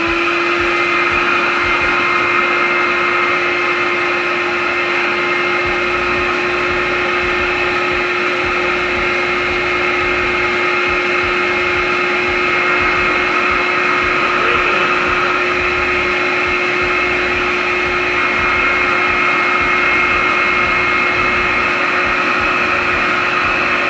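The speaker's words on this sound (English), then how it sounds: "Basically just going to vacuum inside now." Shop vacuum running inside a Chevy Venture 3.4 engine block during block prep, a loud, constant roaring whine with a steady pitch throughout and no voices.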